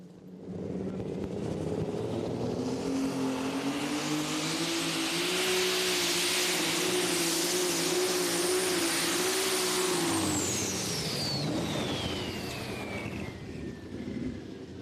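Lightweight super stock pulling tractor, multi-turbocharged and running on alcohol, roaring loudly at full power with a high turbo whine through the pull, then the engine note falling away as it winds down.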